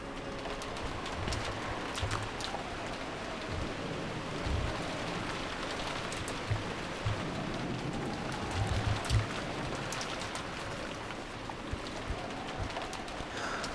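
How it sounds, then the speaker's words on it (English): Rain and wind in the visual novel Umineko: a steady, moderately quiet wash of falling rain with a broad windy hiss, continuous throughout, with a few faint soft taps and thumps rising briefly above it. "The unsettling sound of the wind had now blended in with the sound of rain"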